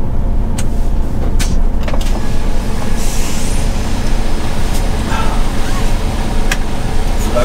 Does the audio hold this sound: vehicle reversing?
yes